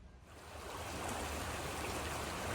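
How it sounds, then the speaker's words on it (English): A stream flowing beside a walking trail on the John Muir Way between Strathblane and Kilsyth in Scotland: a steady, fairly close rush of water that swells in over the first moment and then holds evenly, with no voices. "We cross over this water that we've been walking alongside of for the last 3 or 4 kilometers."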